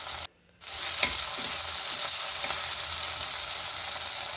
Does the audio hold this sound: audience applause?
no